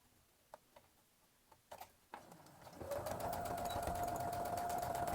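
A sewing machine runs a seam on fabric for a stuffed Easter bunny's overalls, starting after a few scattered clicks and taps, then a loud, steady rapid whirring hum up close that continues to the end.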